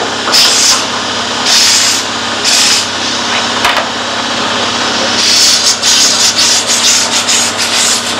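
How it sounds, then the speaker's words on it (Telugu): A grinding and buffing machine polishing a manufactured product, with a loud, steady abrasive rubbing whir and repeated harsher bursts as the piece is pressed against it, close up and without speech. "ఇది గ్రైండింగ్, ఈ మషిన్ వచ్చేసి బఫింగ్ మషిన్ అంటే."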